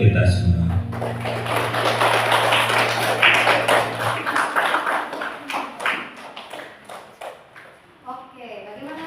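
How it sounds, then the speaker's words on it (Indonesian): A classroom of children applauds with dense, close clapping that starts loud and then thins into scattered claps before fading. A voice speaks briefly near the end. "Beri tepuk tangan yang meriah untuk kita semua."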